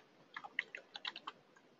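Comment being typed on a computer keyboard in a client portal, a short run of about eight light, uneven clicking keystrokes, close and fairly quiet with no talk.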